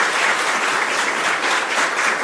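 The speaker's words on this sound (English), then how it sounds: "If you guys can give him another round of applause." An audience at a lecture on the Nazi judicial system and Nuremberg trials gives a judge a sustained round of applause, a dense, even wash of many hands clapping throughout, fairly loud with no talk.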